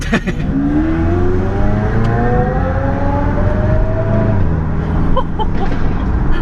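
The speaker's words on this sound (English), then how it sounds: "We've got that extremely loud Hurricane behind me." A very loud Hurricane sports car engine revs hard and pulls away, its rising, sweeping roar continuous and close, echoing off a nearby building.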